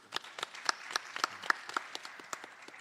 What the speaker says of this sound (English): Our brother Mysonne, give him a round of applause.